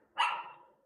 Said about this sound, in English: Dogs, man.